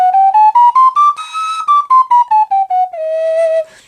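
A Japanese flutarina plays a scale in clean, bright tones, stepping up note by note to a sustained high E and then back down, ending on a long held low note, with each note separately tongued.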